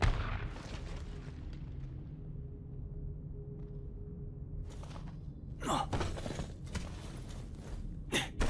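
A grenade blows up in the video game Left Alive. Sharp, broadband blasts break over a low rumbling background, with a couple of loud bursts near the end.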